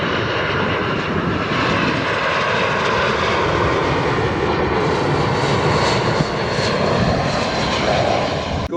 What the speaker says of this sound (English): Look at that plane coming in.